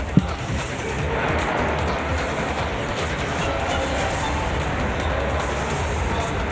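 A metro train rumbles at Dakshineswar metro station, a steady loud roar of rolling rail noise that carries on throughout with no break, heard close by.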